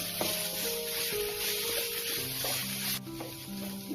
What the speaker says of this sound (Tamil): இந்த ஆனியன் வந்து கோல்டன் ப்ரௌன் வர்ற வரைக்கும் வந்து நம்ம இதை அப்படியே வந்து எண்ணெயிலேயே வேக வைக்கணும். நல்லா கிண்டி விட்டுக்கோங்க